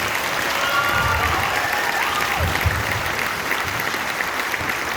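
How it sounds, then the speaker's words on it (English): Sustained applause from a school concert audience, steady and dense throughout, a full crowd clapping together at moderate distance with no break. "One more round of applause just for them"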